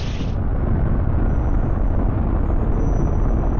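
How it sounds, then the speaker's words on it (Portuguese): Forty-seven rockets strapped to a chair explode in a loud, sustained roaring blast that stays dense and steady throughout, with no voices. "Mas o experimento não deu certo e Wan Hu morreu queimado pela explosão"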